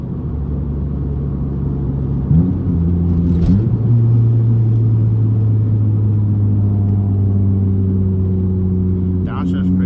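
A 1995 Honda Del Sol with a big turbo drones loudly from inside the cabin as it accelerates, its engine pitch stepping abruptly through gear changes before steadying into a sustained hum.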